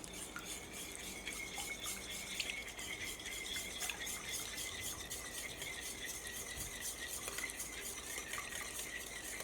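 A whisk beating oil, yogurt and milk together in a bowl for a rava sponge cake, a steady, faint, continuous scraping and sloshing with no pauses.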